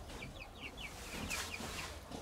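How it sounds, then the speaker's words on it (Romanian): Hens clucking softly in a farmyard coop, a series of short, quiet chirping clucks over faint background noise. "De ce îți place această rasă de găini?"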